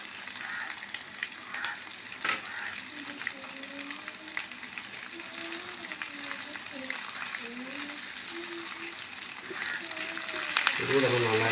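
Onions and curry leaves frying in oil for a beef fry, a dense steady sizzle with occasional stirring clatter, a faint voice humming along beneath it.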